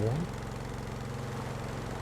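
Game engine idling in Stormworks: Build and Rescue, a steady low rhythmic chug that holds even and moderately loud after a brief rising tone at the start.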